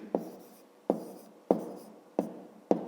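Numbers are written by hand with a pen or pencil on paper, making five short, crisp strokes at an even pace, each with a sharp start, close and quiet, with no talk.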